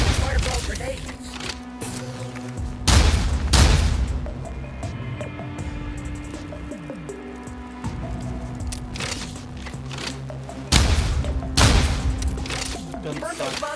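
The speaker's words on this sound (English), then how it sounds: "Burn those monsters to a crisp with fireball grenades." Fireball grenades burst in a video game with loud booming explosions, two heavy blasts standing out among crackling and crunching effects and game music, while a voice talks over the action.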